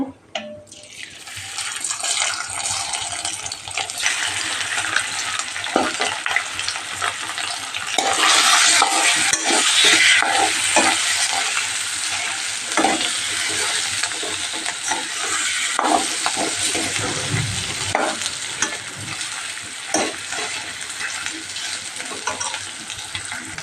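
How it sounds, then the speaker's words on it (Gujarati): Potatoes fry in hot oil with turmeric in a continuous loud sizzle, broken by scattered clinks and scraping stirs over the whole stretch. "આપણે બટેટા ફ્રાય કરી નાખીએ આપણે બટેટા નાખી દઈએ"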